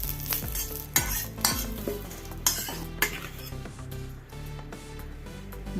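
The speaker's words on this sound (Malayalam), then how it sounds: "ഒരു കൂടി കരിവേപ്പിലയും കൂടി വറുത്തെടുക്കാം" Curry leaves crackle and fry in oil for a mackerel fish pickle, with loud scraping stirs and metallic clinks of a spoon on the pan over a busy sizzling hiss, close and without speech.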